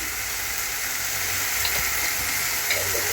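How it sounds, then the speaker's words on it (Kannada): Masala paste with turmeric sizzles steadily in a pan for biryani, a continuous close hiss of frying with faint stirring scrapes throughout and no voices. "ಚೆನ್ನಾಗಿ ಫ್ರೈ ಮಾಡ್ಕೋಬೇಕು"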